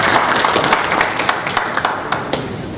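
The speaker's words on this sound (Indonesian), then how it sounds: "Tepuk tangan dulu Bapak Ibu." Seminar audience applauding together, dense continuous clapping with distinct individual claps popping out, close and loud throughout.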